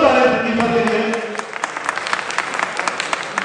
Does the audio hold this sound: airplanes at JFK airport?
no